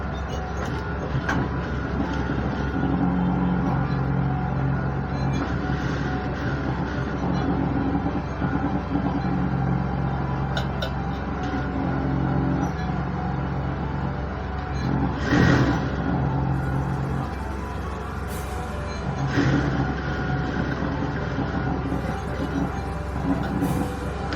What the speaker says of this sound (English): So I will start from here to sew.